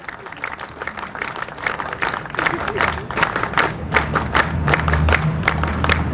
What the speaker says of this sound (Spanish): Y un aplauso especial para ellos por su presencia militante en nuestro partido